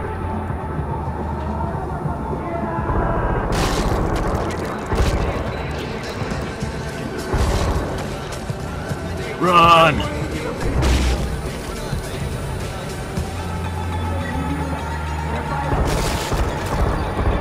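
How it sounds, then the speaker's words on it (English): Explosives going off in Far Cry 4, several heavy booms scattered over a rumbling mix of game noise and fire, with talk from people during the action. "We're laying the explosives now."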